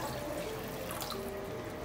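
Water pours steadily into a pan of tomato-based chicken kofta curry gravy, making a close, continuous splashing trickle with no talking.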